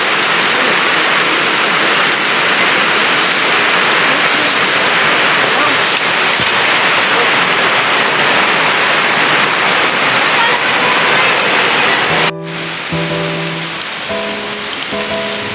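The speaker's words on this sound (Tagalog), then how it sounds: "Hoy, umulan na." Heavy rain pouring down, a loud, constant roar of drops drumming on surfaces; near the end a voice talks briefly over the downpour.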